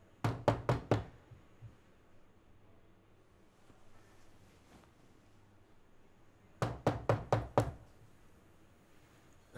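Two bursts of sharp knocking on a door, each four or five quick raps, separated by a quiet stretch; close and fairly loud against a hushed room.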